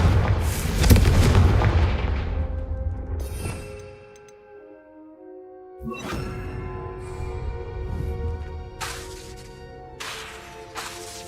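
A Confringo spell explodes in Hogwarts Legacy, a loud booming blast with a long rumbling decay, followed after a brief lull by more crackling magical impacts and bursts.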